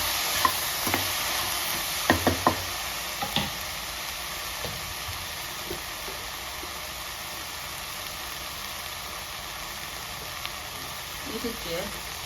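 Ivy gourd sabzi in a pan is stirred, with a few clattering spoon scrapes early on over a soft continuous sizzle that settles into a quiet frying hiss; faint speech is present.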